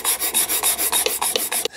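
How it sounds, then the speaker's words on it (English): Shooting sander rasping across the corner of a wooden drawer, its sandpaper worn out, in about a dozen steady back-and-forth strokes, loud and close, with no talk until a stop at the end. "have at it with the shooting sander until this little point here kind of disappears"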